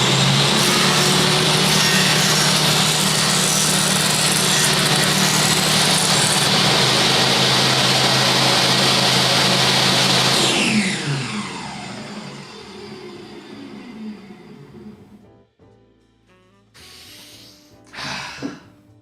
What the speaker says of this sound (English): And now, power tool noises.